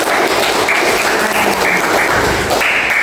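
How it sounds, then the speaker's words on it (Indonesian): Students in a seventh-grade Islamic religious education class break into sustained, dense clapping that fills the room evenly for the whole stretch, with no voices over it. "kasih tepuk tangan dong."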